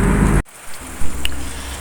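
Heavy rain pours down outdoors on a small farm where chicks are kept, a steady broad wash that breaks off abruptly near the start and then resumes as continuous dense patter.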